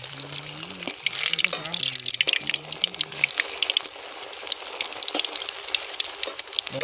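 Egg and onion fritters fry in hot oil with a steady broadband sizzle and crackle, while a voice talks over the first half before the frying carries on alone.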